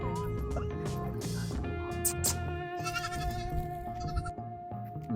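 A goat kid and its mother goat bleat on a farm, repeated wavering cries up close over a steady background hum, with other farm animal calls mixed in.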